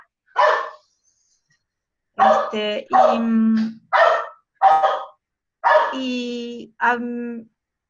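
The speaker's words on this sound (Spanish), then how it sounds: "Mi perro ladrando" A dog barks repeatedly, nearby and loud, in short bursts with pauses between them; some barks stretch into longer, whiny yelps.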